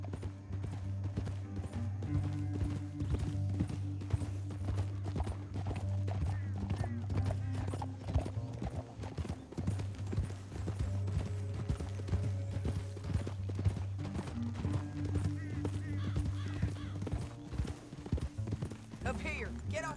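Steady clip-clop of horse hooves trotting in Red Dead Redemption 2, throughout, with a sustained low musical drone underneath and an occasional whinny.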